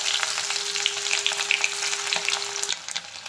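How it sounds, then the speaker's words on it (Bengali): Chopped onion, bay leaf, dried red chili and whole cumin fry in hot oil, a close, busy crackling sizzle with scattered pops that eases slightly near the end. "তেল গরম হয়ে গেছে, ফোড়নে দিয়ে দিলাম একটা তেজপাতা আর শুকনো লঙ্কা, গোটা জিরে, দিয়ে দিলাম কুচনো পেঁয়াজ"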